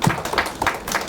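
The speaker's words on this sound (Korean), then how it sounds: "다시 한번 우리 소장님께 큰 박수" At a Korean forum on religion's role in urban community movements, an audience claps for a research institute director, giving a brief, dense burst of applause that sounds close and moderately loud.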